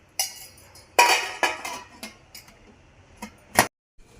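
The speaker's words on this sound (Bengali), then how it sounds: "এবার আমি ঢাকনা দিয়ে দেবো।" A metal lid set on a pan while steaming rice dhokla, heard as a few sharp clinks and clatters, close and fairly quiet, with no talking.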